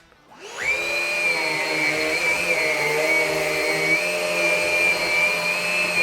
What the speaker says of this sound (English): So I'm gonna go again with the regular suction, like the other one.